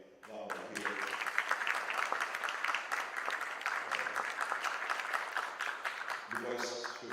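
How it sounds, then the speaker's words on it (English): Audience at the Y4D Foundation Empowerment Conclave 2024 applauds a guest seated in the crowd, a dense, steady wash of many hands clapping for several seconds, swelling at the start and tapering near the end with a voice returning. "one very, very important person in this audience actually deserves round of applause"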